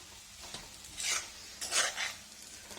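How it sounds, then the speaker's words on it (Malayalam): Chicken being stirred in a pan with fennel powder and curry leaves for a bird's eye chilli chicken roast: a few soft scraping, sizzling swishes of a spoon against the pan, close and moderate, with no talking. "കുറച്ച് കറിവേപ്പില നമുക്ക് നന്നായിട്ട് മിക്സ് ചെയ്യാം"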